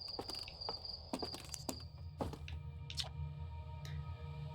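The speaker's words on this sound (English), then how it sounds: "minor stuff like the crickets and the birds that you hear sometimes" Crickets chirp in the ambient world of the game Outer Wilds, a soft steady insect trill mixed with scattered ticking clicks and faint bird-like calls over a low background hum, with no talk.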